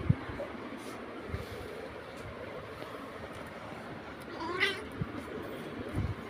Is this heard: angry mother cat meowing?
yes